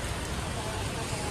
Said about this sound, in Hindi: एक ही दम से जो है बारिश इतनी तेज आ गई, बहुत तेज आ गई बारिश एक ही दम से